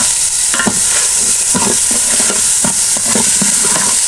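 Polao rice fries in a pot with ginger. A close, constant sizzle runs throughout, broken by repeated scraping stirs at a fairly even rhythm, with no voices.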